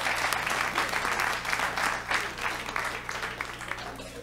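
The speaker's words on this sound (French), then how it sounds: "Par applaudissement, les célibataires." Steady applause from a theatre audience at a comedy gala, many hands clapping together at an even level with a low hum beneath, no voices rising above it.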